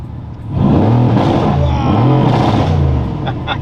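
An 800-wheel-horsepower Mercedes-AMG GT S revving up close and loud, the engine climbing and falling in two strong pulls, with a brief hint of voices near the end.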